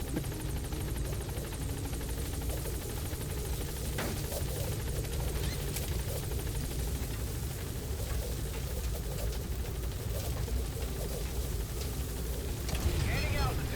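Support helicopter in Metal Gear Solid V: The Phantom Pain coming in to land, its rotor a loud, continuous, dense roar that builds slightly near the end, with radio voices talking over it.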